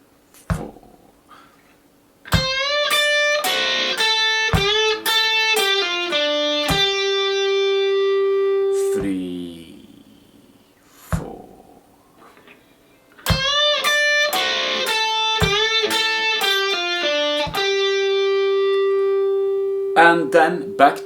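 Electric guitar playing a rapid triplet pull-off run, with bright fast note flurries ending on a sustained note, played twice with a short muted break between the passages.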